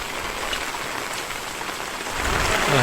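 Steady rain falls hard and close, a dense continuous patter of drops on surfaces that grows slightly heavier toward the end, with no voices.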